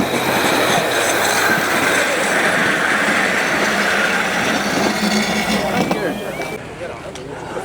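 A miniature train rolls past at a Flying Scotsman day out, a steady close rumble of wheels and carriages with some rail squeal, fading a little near the end while voices murmur underneath.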